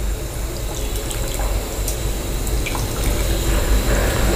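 Tamarind water being poured and strained, a continuous close trickling and splashing that grows slightly louder toward the end.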